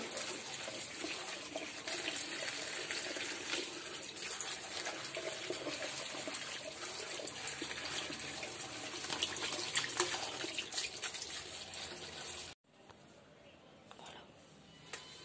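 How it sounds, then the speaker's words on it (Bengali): Leafy greens are washed in a basin under running tap water. The water splashes and runs steadily for about twelve seconds and then stops, leaving quiet room sound, with a voice speaking in the background. "দেখুন এই যে জলে এরকম চুবিয়ে রেখে দিলাম ধোয়ার পরে, এই যে গামলা ধরে জলে পুরো চোবানো থাকলো"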